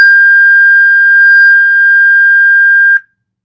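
A loud, piercing 1600 hertz sine tone holds steady for about three seconds before stopping abruptly with a click.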